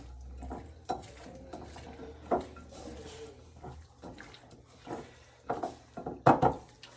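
Salad ingredients tossed and mixed in a bowl, giving soft scattered clatters and wet rustles that build to a denser flurry near the end.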